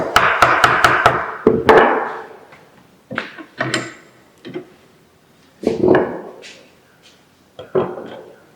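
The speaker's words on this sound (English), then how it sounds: "using a firmer chisel, you remove the item" A firmer chisel is struck into a clamped wooden workpiece in a carpentry workshop, with a quick series of sharp knocks at first, then scattered single thuds and scraping cuts separated by quiet pauses.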